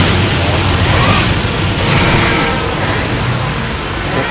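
A cannon shot and the explosions that follow during a ship-deck hunt against Jhen Mohran in Monster Hunter 3G HD, heard as loud continuous booming and crashing rumble, dense and close throughout.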